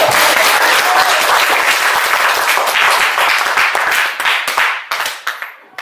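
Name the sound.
class applauding a student group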